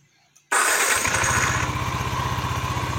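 An old Yamaha Nmax scooter, repaired for error code 61, cranks and catches abruptly, then settles into a loud, steady, close idle.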